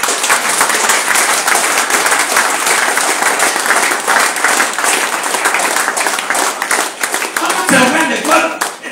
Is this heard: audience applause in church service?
yes